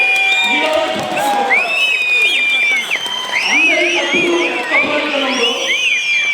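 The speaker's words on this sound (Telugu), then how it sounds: "ఆయనకి గట్టిగా చప్పట్లు కొట్టాలి." Loud audience applause and cheering at a public meeting honoring a local MLA during Vemana Jayanti celebrations, a sustained wash of clapping with whoops and whistles, and voices rising over the crowd.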